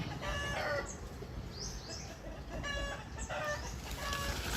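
Farmyard chickens cluck busily close by while a rooster crows more than once, the calls repeating over a steady outdoor background.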